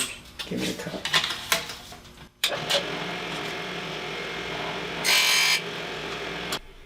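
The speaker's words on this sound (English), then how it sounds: "Okay, I'm ready to cut my side pieces." A power saw cuts thin wooden side pieces for a guitar rosette, making several bursts of buzzing, rasping cuts with a brief pause between them and a short bright whine near the end, heard fairly close.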